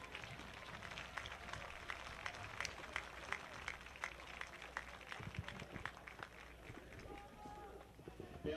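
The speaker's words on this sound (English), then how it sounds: "Fans, please give them a nice round of applause." Stadium fans applauding military veterans at a high school football game, dense rapid clapping with scattered sharp claps from a large crowd, a spoken voice mixed in over the steady applause.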